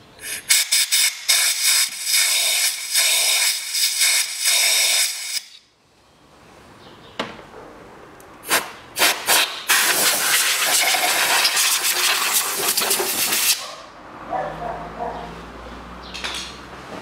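Loud bursts of compressed air hiss in repeated blasts, blowing out freshly tapped threaded holes on a 2003 Toyota Harrier, pause briefly, then blast again in longer rushes before fading to a low hum.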